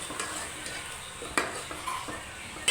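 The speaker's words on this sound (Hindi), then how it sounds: "अब अच्छे से चम्मच हिलाते रहें" A metal spoon stirs chicken curry with tomato and chilli in a pan, with repeated scraping clinks and a few sharper knocks against the metal over a low steady sizzle.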